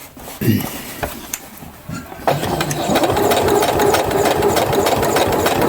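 A sewing machine stitches the thick seam of a welder's cap, starting with a few scattered taps and clunks before settling into a steady, close, continuous mechanical whirr with rapid needle chatter.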